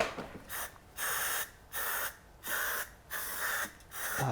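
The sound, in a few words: spraying adhesive from aerosol can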